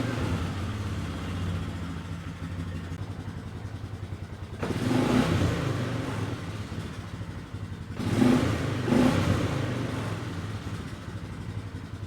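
A 2002 Polaris Sportsman ATV idles with a steady low rumble, then the engine is revved twice, each rev a short surge of throttle that falls back to idle. The engine is close and no one speaks.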